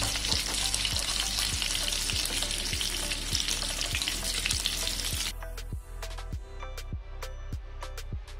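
Tandoori prawns shallow frying in a pan give a steady, dense sizzle with a sharp crackle, then drop to quieter popping and intermittent spits of hot oil.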